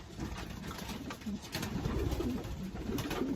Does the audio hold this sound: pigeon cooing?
yes